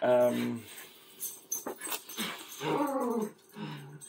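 A dog growls and grumbles in a small, confined room, with a low rumbling snarl at the start, then a person talks over further agitated dog noises.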